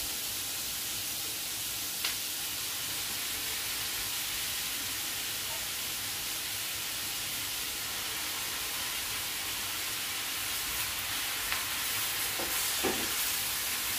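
Spinach sautéing in a pan gives off a steady, bright sizzle and hiss throughout, with a few faint clicks and stirring scrapes near the end.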